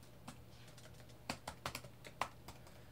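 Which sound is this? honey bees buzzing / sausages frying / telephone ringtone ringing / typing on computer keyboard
typing on computer keyboard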